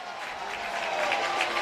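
Baseball fans applaud Nolan Arenado at a Diamondbacks versus Cardinals game, a dense wash of clapping from a distant stadium crowd that rises slightly over a short stretch.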